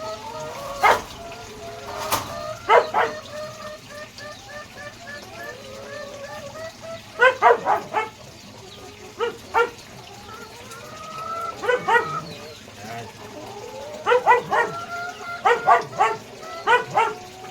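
A dog barks angrily at chickens in short bursts of two or three, repeating every few seconds, with birds and other animals calling in the background.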